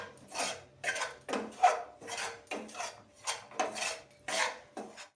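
Grated dried coconut being sautéed in a pan: a spatula scrapes and stirs in quick, repeated strokes, about ten rasping passes that are close and fairly soft.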